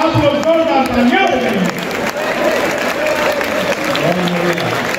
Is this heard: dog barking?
no